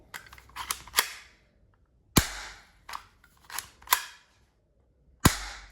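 A series of sharp metallic clicks and snaps in irregular bursts, with pauses between, like the mechanism of a Galaxy G6 Hi-Capa toy metal pistol being worked and loaded up close.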